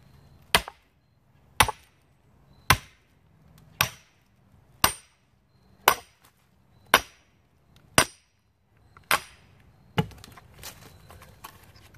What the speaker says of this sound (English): all you want to do is just hit it a couple times with the sledgehammer, and she splits